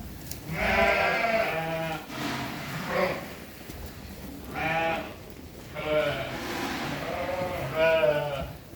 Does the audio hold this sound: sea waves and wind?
no